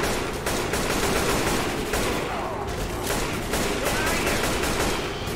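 Rapid automatic AK rifle fire in Left 4 Dead 2, dense continuous bursts at steady loudness for several seconds with game action clutter underneath.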